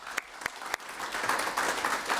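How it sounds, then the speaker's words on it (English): Applause for a speaker at an artificial intelligence and Earth observation workshop: a few separate claps come first, then quickly build into a fuller, steady round from the audience. "Please give an applause to Betty."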